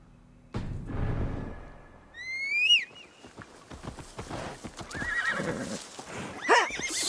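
A horse in Assassin's Creed Valhalla gives a loud rising whinny, with hooves clip-clopping steadily around it and a short snort near the end.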